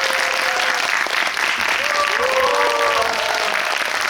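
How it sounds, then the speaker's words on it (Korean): A cinema audience at a film guest visit for Harbin bursts into sustained, dense applause that fills the room evenly, with a faint voice or crowd murmur underneath. "큰 박수 부탁드립니다."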